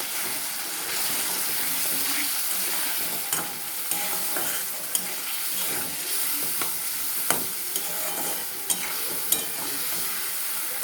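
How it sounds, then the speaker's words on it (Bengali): A ground spice paste and red chilli powder are stir-fried in a pan for a Bengali catla fish curry with eggplant and potato. A steady sizzle carries a spatula scraping, with occasional sharp clicks against the pan and no voices. "মশলাটা দিয়ে এবার ভালো করে কষিয়ে নেব।"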